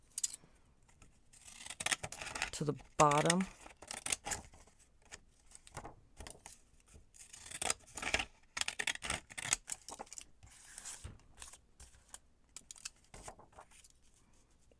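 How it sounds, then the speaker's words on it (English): Decal edge scissors snip through paper during junk journal page work, giving a run of crisp cutting crunches and snips, close and fairly quiet, with brief pauses between cuts and no voice. "I'll take my decal edge scissors"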